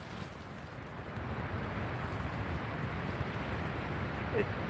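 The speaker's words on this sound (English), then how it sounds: "And is it ever friggin' windy?" Strong wind buffets a microphone outdoors at a hunting blind, a steady loud rumbling roar that fills the whole stretch with no letup.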